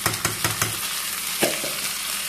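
Onion and rice frying together in a pan for green bean dish, a steady close sizzle broken by several sharp stirring scrapes near the start and another around the middle.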